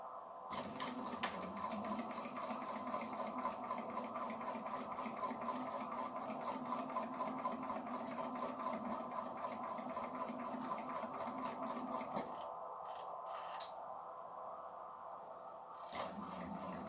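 A sewing machine stitches steadily up close with a rapid, even rhythm for about twelve seconds, then stops, followed by a few clicks and a brief restart.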